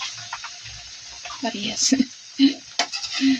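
Pork liempo sizzles in a frying pan as the pieces are turned, a soft background hiss broken by a few louder bursts of spatter, with a person talking over it.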